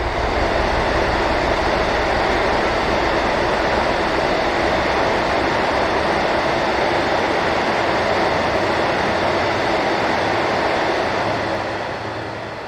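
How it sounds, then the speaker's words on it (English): A Freightliner Class 70 diesel locomotive hauls a loaded car train past, a loud, broad roar of engine and rolling wagons that holds steady and then eases slightly at the end. "Another Freightliner 70, this time on a loaded car train bound for Baxton."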